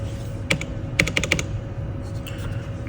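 Quick clicks on the keyboard of an ETC lighting control console: a single tap, a short pause, then a rapid run of several keystrokes close by over a steady low background hum.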